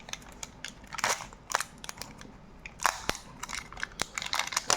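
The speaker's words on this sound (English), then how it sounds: "time to unwrap this thing" Crinkly packaging is torn and unwrapped from a package of electronics parts, giving sharp irregular crackles and snaps close up, with no voices.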